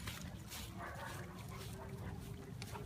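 Dogs whimper and yip amid a dense, steady rumble of outdoor noise, the animal sounds fairly faint and mixed in throughout.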